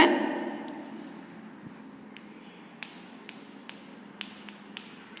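Chalk or marker writing terms on a classroom board: soft continuous scratching strokes with scattered sharp taps as each word is started, fairly quiet against a light room hiss.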